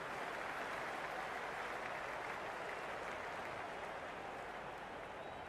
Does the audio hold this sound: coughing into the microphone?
no